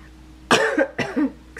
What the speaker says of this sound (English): This cough ever will go away